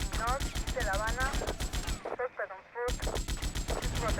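Rapid automatic gunfire in the GTA video game, dense and loud bursts that stop briefly and then resume, with a voice talking under the shooting.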